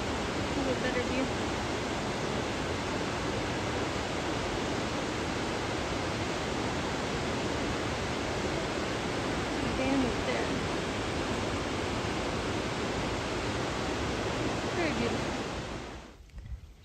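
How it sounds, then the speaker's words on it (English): Piped spring water pouring steadily from a mountainside along the Appalachian Trail, a loud, close, continuous splashing rush that holds evenly before cutting off at the end. "There's a piped spring coming from the mountain."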